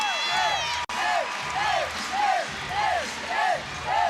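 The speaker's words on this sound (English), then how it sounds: "The crowd is pleased." A gymnastics arena crowd cheers and whoops after a floor routine at an Air Force versus Clemson meet, in swelling waves with a sharp thud early on, while melodic gliding tones rise and fall repeatedly over the crowd.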